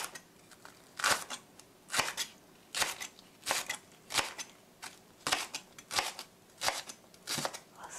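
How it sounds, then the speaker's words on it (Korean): Knife slicing green onion diagonally on a cutting board: a steady run of about a dozen crisp, evenly spaced chops, close and clear, with no talking. "대파는 하프 반은 이렇게 어슷어슷하게 썰어 주시고요"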